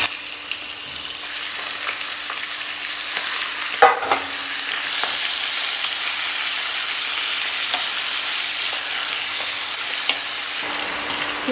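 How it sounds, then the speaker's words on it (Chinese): Chicken stir-fries in a hot wok after brief aromatics, a steady loud sizzle with a sharp scrape and clatter of the spatula midway, then continued hissing. "稍微的爆香就可以用这个鸡炒一下。"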